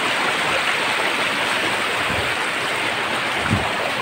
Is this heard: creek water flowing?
yes